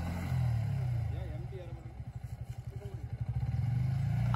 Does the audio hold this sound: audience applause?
no